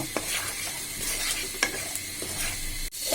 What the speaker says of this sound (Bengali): অল্প সময় আমি এটাকে একটু ভেজে নিব